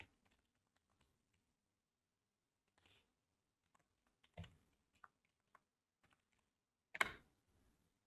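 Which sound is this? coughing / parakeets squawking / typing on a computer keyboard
typing on a computer keyboard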